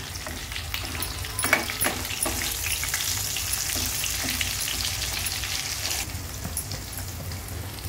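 Steady sizzling as chilli masala fries on low heat in a pan for bitter gourd curry, with occasional scraping and stirring clicks, the hiss continuous then easing slightly near the end.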